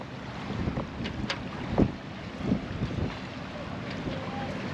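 Wind blows over the sea where a catamaran lies at anchor and yoles race under sail nearby, a continuous rushing roar with low, gusty microphone buffeting and a couple of louder thumps.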